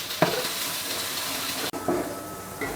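Beef pulao masala fries uncovered in a pot with a steady, close sizzle and hiss, broken by a brief clatter of stirring and a short pause before the frying resumes.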